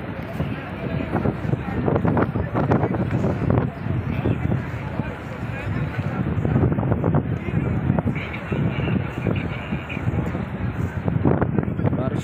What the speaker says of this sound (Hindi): बारिश के साथ साथ बहुत तेज़ हवा भी चल रही है।